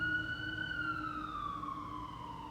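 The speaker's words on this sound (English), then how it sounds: "I guess we can hold on for the ambulance to pass by." An ambulance siren wails steadily as it passes, its pitch sliding slowly downward over a low rumble of traffic, loud and close throughout, with no talking.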